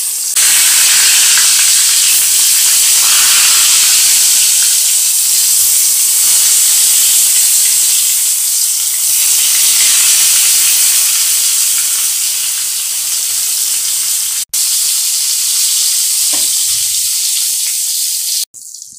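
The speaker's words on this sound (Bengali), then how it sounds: "আর আমি কিন্তু চাটুতেই বেগুনগুলো ভাজবো জানো" Turmeric-coated eggplant slices fry on a flat tawa with a loud, dense, continuous hissing sizzle that cuts out abruptly twice near the end.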